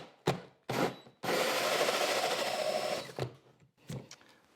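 A hole saw cutting into drywall runs backwards, giving a short burst, a second burst, then a long sustained grinding rasp of about two seconds, followed by a few brief scraping bursts, close and loud.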